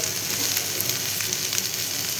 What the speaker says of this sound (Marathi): अगोदर तेलामध्ये जसे नॉर्मल आपण लसूण डाळी जिऱ्याची फोडणी दिली, मिरची टाकली